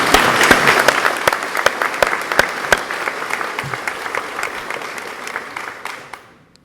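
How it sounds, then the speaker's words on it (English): An audience at an Anderson Institute of Technology ceremony gives a round of applause: a steady wash of many hands clapping with sharp individual claps standing out, fading away at the end. "That's worthy of a round of applause."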